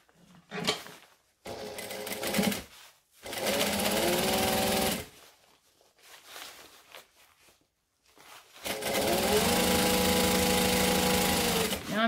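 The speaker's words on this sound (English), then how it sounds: "I'm just basting, sorry, this at an eighth of an inch." A sewing machine basting fabric tabs in several close bursts of steady whirring, separated by short pauses, with the longest run at the end.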